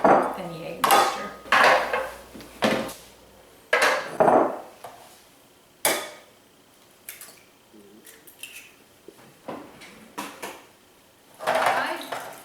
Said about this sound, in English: I beat my eggs together